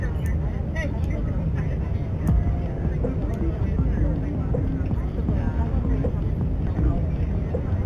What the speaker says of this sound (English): On runway 24. And run up the props.